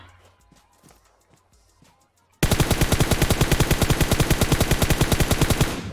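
A sudden loud burst of rapid automatic gunfire from a video game cuts in after a quieter stretch of faint clicks and thumps. It continues as a steady, fast, evenly spaced stream of shots to the end.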